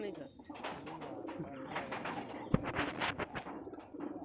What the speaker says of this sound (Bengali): মাদা পায়রা কত সুন্দর দেখো